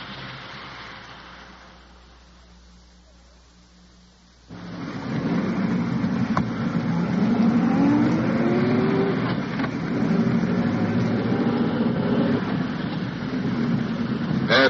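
A car driving at night in a 1954 radio crime drama, an undercover police car carrying detectives: a low quiet rumble at first, then a sudden jump to a loud, steady engine roar with road noise that holds to the end.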